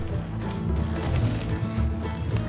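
Horse hooves clip-clopping in Red Dead Redemption 2, a steady rhythmic run of close, dull thuds continuing throughout over a low game rumble.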